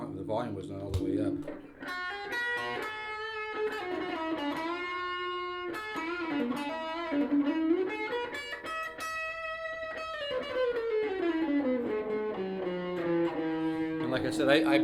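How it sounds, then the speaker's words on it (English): An Ibanez AXD 82 semi-hollow electric guitar, a 2001 335-style model, plays sustained bending and sliding notes through distortion at low amp volume, with sharp attacks and long ringing tones throughout. "Let me go back to the distortion because I had the volume was not all the way up."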